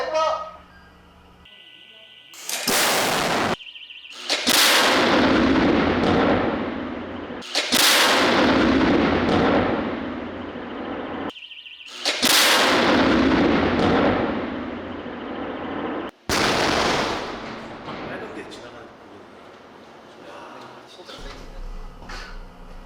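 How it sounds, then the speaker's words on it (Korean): A K9 self-propelled howitzer with a 155mm barrel fires during a gun-barrel endurance test at a defence proving ground, several loud booming blasts with long rolling echoes, spaced a few seconds apart, and voices are heard between them. "발사 5초전"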